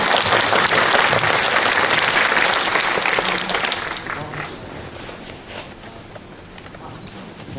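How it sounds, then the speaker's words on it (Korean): A film festival audience at a Busan screening Q&A applauds loudly at first, then the clapping gradually thins and fades over several seconds, with faint voices underneath. "큰 박수 부탁드립니다."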